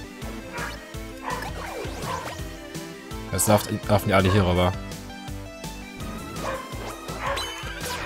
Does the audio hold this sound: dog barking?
yes